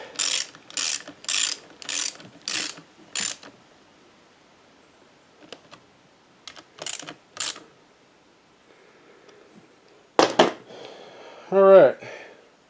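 A ratchet driver with a Torx bit tightens screws into the plastic housing of an Echo GT-225 gas weedeater: six quick, loud ratcheting bursts in a steady rhythm, a pause with a few softer clicks, then several more close-up ratchet and handling sounds.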